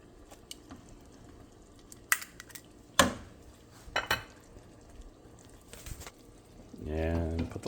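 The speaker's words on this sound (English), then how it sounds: "And put the lid back on for the last 5 minutes" A lid set back onto a pan of chicken cooking in a lemon pan sauce: a few sharp metallic clinks and knocks over a quiet simmer, followed by a voice at the end.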